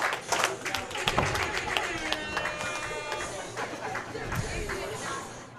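A crowd at a tennis semifinal of the Boston Open claps and cheers in scattered bursts, with chatter and some voices mixed in and a steady background hubbub.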